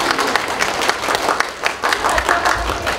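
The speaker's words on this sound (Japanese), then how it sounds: "皆様盛大な拍手をお願いいたします" An audience applauds at a gold post unveiling ceremony held at a school, a steady, lively round of many hands clapping that continues evenly for several seconds.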